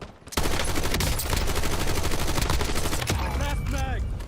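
Assault rifle gunfire in a video game rips out in a dense, sustained burst after a brief quiet start, loud and close, with rapid cracks running almost unbroken and some faint game effects near the end.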